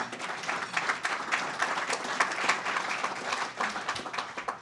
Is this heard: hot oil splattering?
no